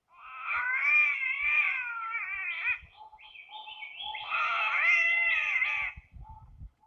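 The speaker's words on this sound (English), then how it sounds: "the green catbird" Green catbird calling alone in two long, wailing, cat-like bursts of nasal, wavering mew notes with short gaps and scattered faint clicks between them.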